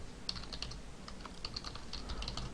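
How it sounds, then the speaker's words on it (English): Keys clatter on a computer keyboard in quick, uneven bursts of close, crisp clicks as text goes into web form fields, with no voices. "We're going to type in name"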